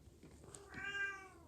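A cat meows once in the horror video game Bendy, a single drawn-out, clear cry rising and fading against quiet background noise.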